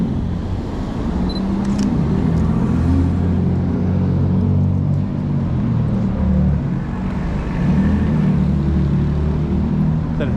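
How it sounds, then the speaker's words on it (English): An Infiniti car engine rumbles with a deep, throaty exhaust note, steady and fairly loud, alongside low street traffic noise. "That Infinity's got a louder exhaust than the Mercedes does"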